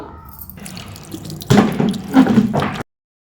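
Hands being rinsed under a running tap after applying henna, splashing water that grows louder in irregular bursts before cutting off abruptly.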